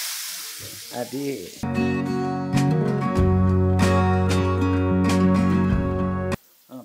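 Chopped onions hit hot oil in a pan at home and sizzle loudly and steadily, with a short spoken word just before the frying starts.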